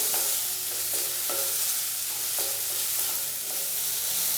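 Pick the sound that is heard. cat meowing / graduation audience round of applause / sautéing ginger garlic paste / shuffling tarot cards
sautéing ginger garlic paste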